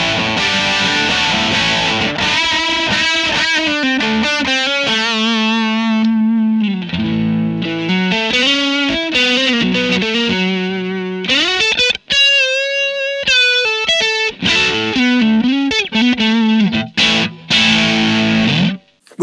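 Electric guitar through a Poly Effects Beebo pedal running a Friedman B50 amp simulation into a Super Champ 1x10, loud distorted chords and single-note lines with effects, continuous playing and no talking.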